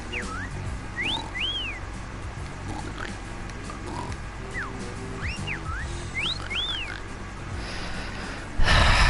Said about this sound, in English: That whistling tells me there's something nearby.